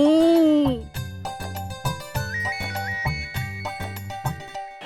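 A phone ringtone plays a bright, repeating melodic tune of chiming notes, loud and close, with no talking over it.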